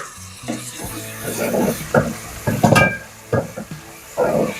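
Spices sizzle in a pan for soya chunks pulao, with a spoon repeatedly scraping and stirring against the metal in uneven bursts close by.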